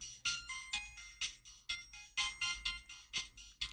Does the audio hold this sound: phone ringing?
yes